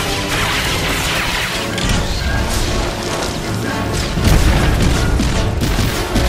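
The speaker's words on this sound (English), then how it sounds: "And with one last barrage of missiles, that's down too." A missile barrage pounds a turret in the Star Wars The Old Republic video game, a dense, loud, continuous roar of overlapping explosions and crashes that swells toward the end.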